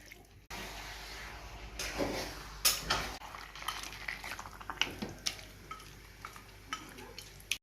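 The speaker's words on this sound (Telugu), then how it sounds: "మనం ఫ్రిడ్జ్లో నుంచి తీసుకొచ్చిన ఈ చికెన్ని మొత్తం వేసి కిందకి పైకి పైకి కిందకి మొత్తం బాగా పట్టుకునేటట్టుగా కలుపుకుంటున్నాం" Chicken taken from the fridge is stirred and fried in oil in a pan, with a steady sizzle, scraping spoon strokes and clinks against the metal, close and continuous.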